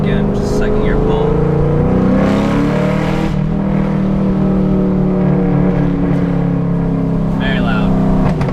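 A 2012 Chevrolet Camaro SS with an LS3 V8 roars and rises in pitch as it accelerates hard in second gear with the windows down, loud and close, with a deep rumbling exhaust throughout.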